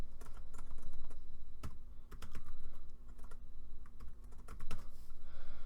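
Keys clatter on a computer keyboard as a class name is typed in a Java programming setup, a quick uneven run of close, soft keystrokes over a low background hum.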